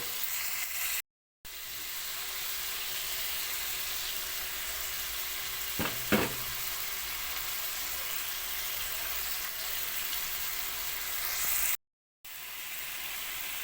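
Liver frying in a pan, a steady loud sizzle throughout with a brief clatter of stirring near the middle, no voices.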